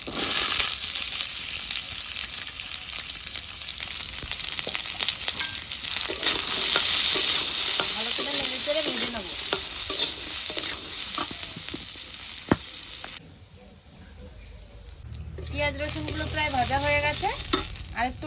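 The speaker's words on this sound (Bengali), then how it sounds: "এক ফোটটা তেল দিয়ে পেঁয়াজ রসুনগুলো ভেজে নেব এখানে আছে পেঁয়াজ আর কাঁচা লঙ্কা" Onion, garlic and green chili fry in a little oil in a home kitchen, a steady loud sizzle with stirring scrapes. The sizzle dips briefly near the end before rising again.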